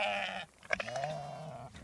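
Ewes on grass bleating nearby, with a couple of drawn-out wavering calls separated by a short pause.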